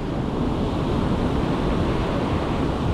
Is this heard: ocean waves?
yes